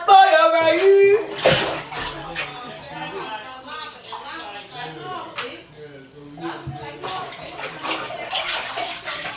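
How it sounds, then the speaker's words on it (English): Bath water in a tub sloshes and splashes during a child's washing, with irregular watery bursts under frequent loud talking voices. "don't drink the tub water"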